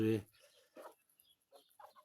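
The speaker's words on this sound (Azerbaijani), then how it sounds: "Artıq toyuqlarla bir gəzirlər, seçilmirlər." Young chickens about three months old and hens cluck in short, soft calls near a person talking, with one louder cluck at the start.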